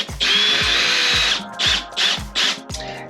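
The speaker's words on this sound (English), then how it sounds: "Now I just have to add 4 screws. Screw it in right here." Power drill driving screws into an electric fireplace being installed in an RV, with a long whining burst followed by three shorter bursts and a brief final one, close and loud with no talk.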